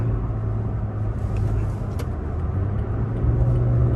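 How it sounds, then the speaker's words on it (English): Toyota Tacoma TRD 4x4 pickup engine pulling steadily under throttle while climbing off-road terrain, a low continuous rumble that swells slightly near the end. "Give it some gas up this, so I want to see, that throttle response for you."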